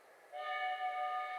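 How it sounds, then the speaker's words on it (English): Steady whistle-like train horn in the Sherlock Holmes: Crimes and Punishments video game as a train arrives at a station, sounding a single sustained blast that swells in after a quiet start. "The train is arriving at the station."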